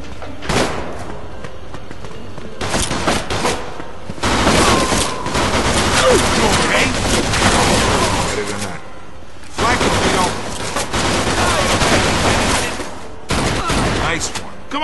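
Gunfire in the crime video game Mafia 2 comes in loud repeated bursts of automatic shooting separated by short pauses, with game dialogue heard between the volleys.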